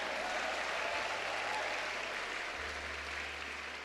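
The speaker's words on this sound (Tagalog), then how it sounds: "Lakasan nyo yung palakpak nyo." A Filipino church congregation applauds during a worship service, giving a steady, dense wash of clapping that stays fairly soft and even throughout with no voices over it.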